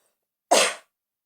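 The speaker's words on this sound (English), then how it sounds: "Having a little coughing thing happening." One sharp, explosive cough, close and loud, lasting a fraction of a second and surrounded by silence.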